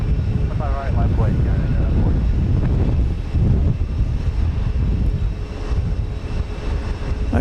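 Strong gusting wind buffets the microphone outdoors at Houston Intercontinental airport, producing a steady, loud low rumble that runs through the whole stretch, with faint aircraft engine noise and brief voice fragments mixed in underneath.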